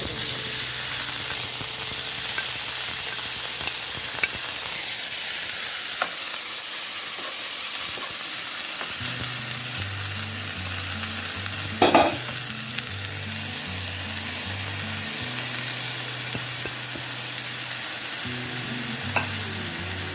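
Chopped green onions frying in a tablespoon of oil in a pan, a loud continuous hiss and crackle held for a long stretch, with a sharp scrape of stirring near the middle and a low humming tone underneath.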